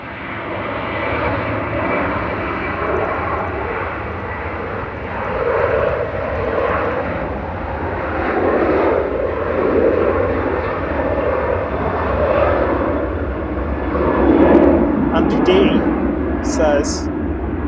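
An airliner lands at Manchester Airport with engine reverse thrust, a loud, sustained roar that swells and fades in broad waves throughout. A person talks over it intermittently.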